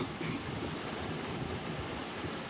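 Wind sweeps across a Roblox game world as a soft, steady whooshing rush, a low, even wash of noise with no speech.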